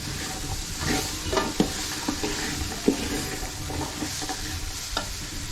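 Potatoes, carrots and beans stirred in a hot pot for vegetable biryani, a continuous sizzle with repeated spoon scrapes and knocks, close and steady, with no talking.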